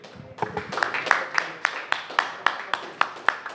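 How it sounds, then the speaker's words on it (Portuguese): A church congregation claps in a steady, even rhythm, with loud, close, regular beats repeating about twice a second and voices mixed in underneath. "Glória a Deus, palmas ao Rei."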